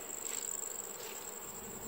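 Honeybees buzzing steadily around a hive during orientation flights, a continuous close, even drone of many wings with no voices.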